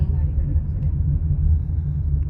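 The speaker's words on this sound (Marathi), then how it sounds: "गाडी चालवायला चालू" A car engine hums as the car is driven, a steady low rumble under a murmur of voices inside the vehicle.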